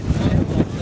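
Wind buffets the microphone outdoors at an amateur football match, a dense low rumble of gusting air filling the whole short moment.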